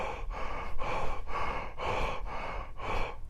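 Deep, audible breathing in a quiet meditation setting: about six slow, even inhale-exhale cycles, close and airy, with no speech.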